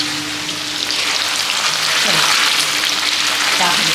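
Food fries in a pan with a loud, steady sizzle and crackle close by, continuous throughout.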